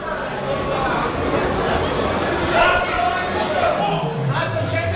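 Spectators babble and chatter around a junior left-hand arm wrestling final, an unbroken murmur of many overlapping voices with occasional louder calls rising above it.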